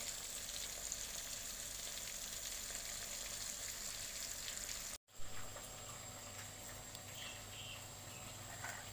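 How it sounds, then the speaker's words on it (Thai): Shrimp and squid deep-fry in hot oil, a faint, steady crackling sizzle that runs throughout, briefly cut off by a short gap midway before resuming. "น้ำมันเดือดแล้วนะคะ เดี๋ยวลงทอดเลยค่ะ"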